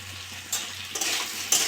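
Potatoes stir-fry in a pan with a continuous close sizzle, broken by scraping strokes of a spatula against the metal.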